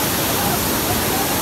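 Bhivpuri waterfall in Karjat during the monsoon, its water pouring down with great force as a steady, loud, broadband roar that fills the whole moment without break.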